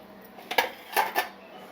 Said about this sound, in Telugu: కళాయి పెట్టుకొని స్టవ్ ముట్టించుకొని